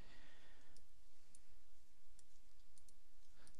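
A computer mouse clicking a few times at an uneven pace while the control key is held to select several chunks, with quiet, sharp clicks spread across a faint, hissy room background.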